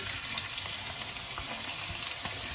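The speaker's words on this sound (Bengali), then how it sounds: "এবার আমি সবার প্রথম রসুন কুচিটা দিয়ে দিচ্ছি" Chopped garlic dropped into hot oil for a suji upma tempering, frying with a steady, close sizzle and faint crackle throughout, no voices.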